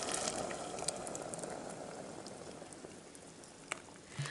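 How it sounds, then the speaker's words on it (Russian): Boiling water poured over potatoes in a soup pot, a steady bubbling splash and fizz that slowly softens, with a few faint clinks near the end. "Заливаю это все водичкой,"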